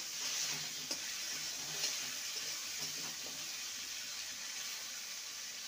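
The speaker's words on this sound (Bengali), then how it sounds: "আলুটাকে ভালো করে ভেজে নেব।" Potatoes fry gently in oil for a parwal dish, giving a faint, even sizzle with a couple of light utensil taps, no one talking.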